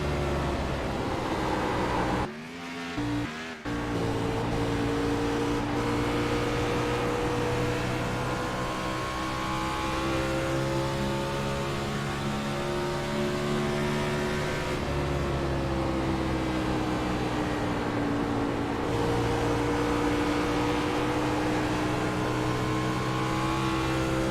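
A Gen 6 NASCAR race car engine drones loudly from inside the cockpit at Charlotte, its pitch rising and falling through shifts and corners, with one brief dropout early on and no voices.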